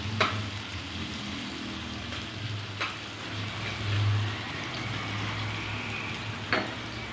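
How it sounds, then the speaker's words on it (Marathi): Shredded cabbage fries steadily in hot oil in a pan, a continuous close sizzle with a few sharp scraping stirs at intervals and no talking. "तेलात थोडीशी फ्राय होऊन द्यायची।"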